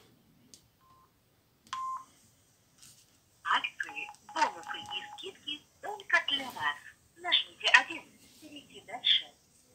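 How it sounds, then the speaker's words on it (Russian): A red Samsung SGH X510 flip phone dials out, with a few short keypad beeps followed by a series of bright electronic tones, while someone talks in Russian between and over them in a quiet room. "Давайте теперь попробуем позвонить."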